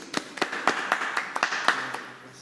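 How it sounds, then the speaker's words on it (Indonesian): A small group claps for a visiting futsal team in a studio setting, about a dozen distinct, evenly paced claps, sharp and close, over a quiet background. "Tepuk tangan dulu."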